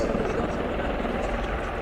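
A USAF Bell Boeing CV-22B Osprey tiltrotor flies a display at an airshow, giving a loud, steady, broadband rotor and engine roar that fills the whole stretch without a break.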